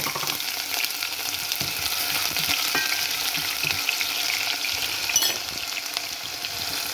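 Steady, dense sizzling of onions frying in hot oil, close and continuous, with occasional soft stirring scrapes.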